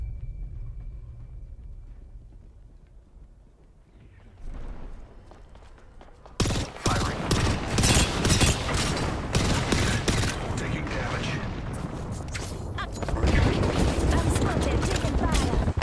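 Heavy video game gunfire in Apex Legends: after a quiet start, dense bursts of automatic shots and sharp cracks run continuously and loud, with a player's voice talking over the firefight.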